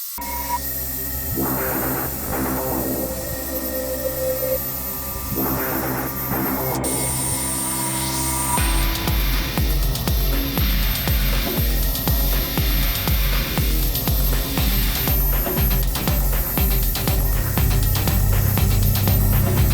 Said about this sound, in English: Now I'm hitting it with a dry buffer wheel.